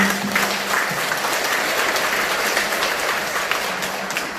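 A Buddhist congregation claps in congratulation for newlyweds, a dense, even wash of many hands sustained for several seconds with a faint voice briefly underneath.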